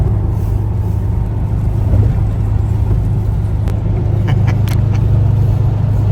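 A car drives along with a steady, close engine and road rumble, and faint clicks come through near the end.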